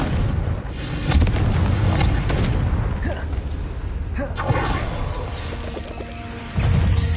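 Confringo blasting spell in Hogwarts Legacy, a fiery magic blast spell in the game, heard as a series of booming crashes and impacts rolling over one another, loud and close, with brief game noises between hits.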